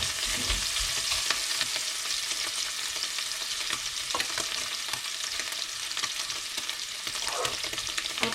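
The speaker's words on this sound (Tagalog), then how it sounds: "I-stir lang natin siya hanggat mag-brown." Food stirred in a frying pan until browned, for patula (kabatiti) in an Ilocano dish, a continuous close sizzle with scraping stir strokes throughout and no voices.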